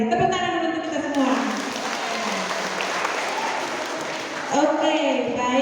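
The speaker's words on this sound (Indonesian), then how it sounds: "Tepuk tangan dulu untuk kita semua" An audience claps at the final round of a primary school science competition in Ende, a steady wash of applause filling the room, with a voice talking over its start and end.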